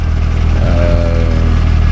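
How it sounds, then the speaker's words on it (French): A steady engine hum with a thin, sustained whine riding above it from a Volkswagen Golf's power steering pump run without fluid, loud and close, holding constant for the whole stretch. "Donc le bruit que tu entends là c'est la pompe de DA."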